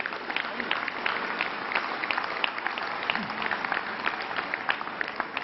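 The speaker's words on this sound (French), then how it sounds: "Vous pouvez les applaudir, ils sont très bien tous les deux." Audience at a political speech in the Pavillon Baltard applauds: a sustained, crowded wash of clapping with sharp individual claps poking through, heard at a moderate distance with a slightly muffled, narrow tone.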